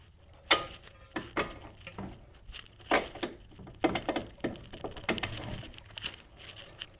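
Ratchet working loose the lower bolts of a 2003-2008 Toyota Corolla coilover strut: close, irregular bursts of rapid metallic clicking with brief pauses between strokes.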